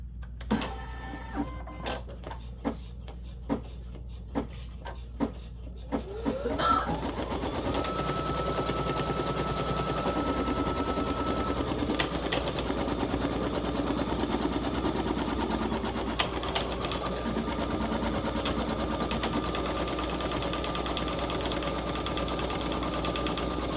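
A Baby Lock Flare embroidery machine stitching in black thread, starting after a few sharp clicks and then running as a steady, close, rapid mechanical hum and patter for most of the clip.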